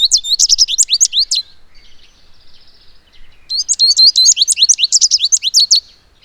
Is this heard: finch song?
yes